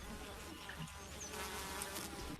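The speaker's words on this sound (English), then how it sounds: "The worker bees are all females, but they almost never lay eggs. Worker bees do almost all the chores in the hive." Worker honey bees buzz steadily inside a hive, a dense, continuous hum of many insects at close range with no talking.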